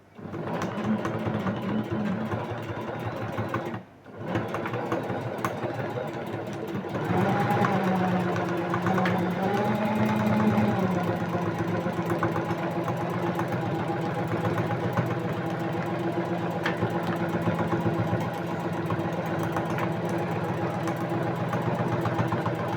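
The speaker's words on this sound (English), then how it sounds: "I've set up my sewing machine and I'm getting ready to sew it all up." A sewing machine runs steadily, with a brief pause early on, then a continuous mechanical whir and hum of stitching close up.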